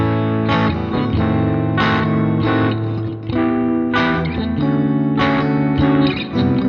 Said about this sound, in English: the next part is a series of chords which sound like this